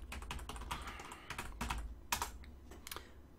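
Typing on a computer keyboard: quiet, close clusters of quick clicky keystrokes in uneven bursts over a low background hum.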